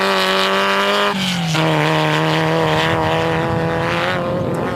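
An aircraft flies overhead near OR Tambo Airport, its loud, droning engine tone sliding slightly lower as it passes, with no voices.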